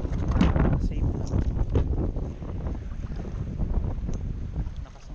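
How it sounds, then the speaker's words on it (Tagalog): Strong wind buffets the microphone in loud, rumbling gusts on the water off Casiguran, Aurora, after a typhoon, with water sloshing faintly beneath and no voices. "Lakas ng hangin."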